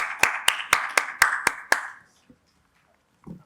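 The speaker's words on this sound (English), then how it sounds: "Please give a huge round of applause once again." A few audience members at a retail technology panel clap roughly seven times in an even rhythm, close and fairly loud, then stop, leaving near silence with a faint stray sound at the end.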